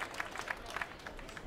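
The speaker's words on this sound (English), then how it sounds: "Get the acclaim from the crowd." A crowd applauds a cyclist at the Tour de Romandie 2014 prologue podium: a short stretch of steady, moderately loud clapping with a few sharper claps standing out.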